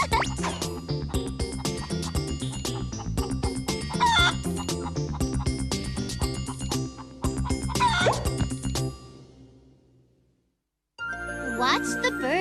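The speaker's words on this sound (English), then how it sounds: "It's a chicken! And a pretty big one at that." A large cartoon chicken clucks and crows amid a busy, jingling musical score, the bird calls mixed into the music before a brief drop to near silence and a return of sound.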